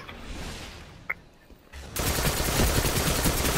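Gunfire in the online shooter Destiny, fired from an unupgraded gun during a player-versus-player match: a short burst of shots with a single sharp crack early on, then dense, loud sustained firing for the last half of the clip.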